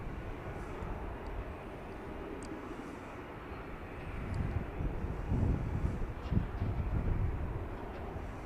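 A Southwest Boeing 737 MAX 8 airliner arriving from San Antonio at Dallas Love Field, a quiet low rumbling approach that gradually swells louder, heard from a distance in gusty wind.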